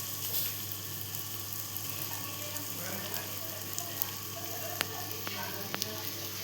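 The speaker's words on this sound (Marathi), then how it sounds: "इथे आपण फ्राय करून घेते." Egg slices fry in a pan with a steady, even sizzle and a few sharp pops and ticks near the end, close and fairly quiet, with no talking.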